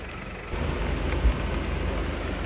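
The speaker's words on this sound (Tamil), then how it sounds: "செம மழைங்க" Heavy rain falls steadily on an open-backed jeep during a jungle safari in Nagarhole Tiger Reserve at Kabini, a dense continuous wash with a couple of low thumps and no talk.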